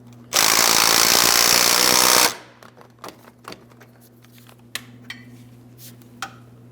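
A power tool, likely an impact driver, snugs sway bar link hardware on a 2005-2010 Chrysler 300 in one loud two-second burst, then stops, leaving a low hum and a few faint clanks of metal tools.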